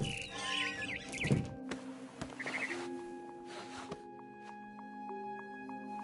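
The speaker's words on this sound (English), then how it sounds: "Then I heard chirping outside my window." A barn swallow chirps outside a window in the video game What Remains of Edith Finch, with faint, short twittering calls over quiet music tones and soft game sounds.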